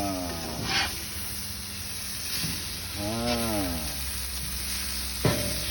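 Plant-based cheese mixture being stirred in a pan in a solar kitchen, a steady sizzle with scraping stirs and a sharp clank near the end, while voices murmur over it.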